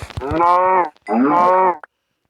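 Two long, loud Minecraft cow moos one after the other, each lasting most of a second, with a short pause between them and nothing else around.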